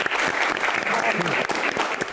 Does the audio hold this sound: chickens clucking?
no